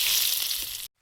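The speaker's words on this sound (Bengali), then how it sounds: "তেলে দিয়ে দিচ্ছি শুকনো লঙ্কা, গোটা গরম মশলা" Dried red chillies and whole garam masala dropped into hot oil for a doi katla fish curry, a loud bright hiss that holds for under a second, then cuts off abruptly to near silence.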